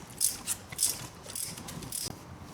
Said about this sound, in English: I'll use the ratchet.